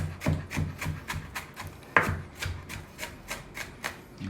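A knife finely chopping green onion slices on a cutting board, about a dozen crisp, evenly spaced chops close up, one slightly harder stroke midway, with no talking.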